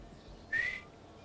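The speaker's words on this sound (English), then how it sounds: "What's the whistling?" A single short, high whistle rises and then holds briefly, sounding alone over a quiet background during play of Kerbal Space Program with Spore soundtrack music.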